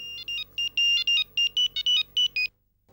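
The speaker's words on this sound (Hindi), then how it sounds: "किसका फोन है फ्लोरा डार्लिंग?" A phone ringtone plays a bright, rapid run of short electronic beeps in a quick rhythm for about two and a half seconds, loud and close, then cuts off into silence.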